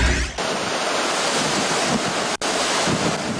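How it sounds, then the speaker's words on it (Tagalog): Powerful wind from Typhoon Nina roars continuously in Camarines Sur, buffeting the microphone with a dense rushing noise and gusting rain, one brief dropout near the end. "Humahagupit na hangin at bugso-bugsong ulan ang ipinaramdam ni Bagyong Nina sa Camarines Sur."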